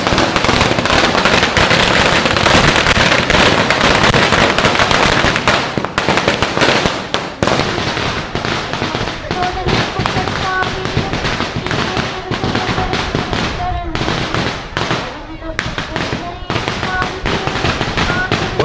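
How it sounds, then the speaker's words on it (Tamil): Firecrackers go off during a St. Anthony church festival procession in Passaiyur, a loud, dense barrage of rapid crackling bursts that thins into scattered sharp pops over crowd noise. "ஊர் மக்கள் வெடிகள் எல்லாத்தையும் கொளுத்தி கொண்டாடுறது"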